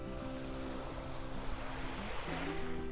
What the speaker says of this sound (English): Just some little tiny waves lapping on the shore.